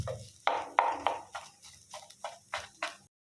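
A mutton and potato cutlet mixture is stirred in a pan, giving about eight separate scraping knocks of a spoon against metal at an irregular pace, close and moderately quiet.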